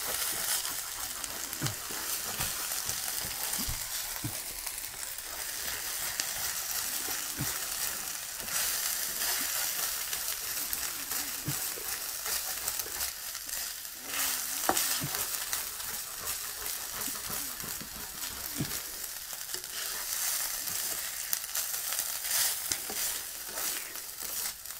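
Chicken and vegetable mince fries in a frying pan with a steady, even sizzle and hiss, broken by occasional scraping stirs, close and continuous with no talking.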